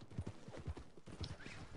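A horse's hooves clip-clop in a video game, with quick, fairly soft steady hoof beats that run for under two seconds.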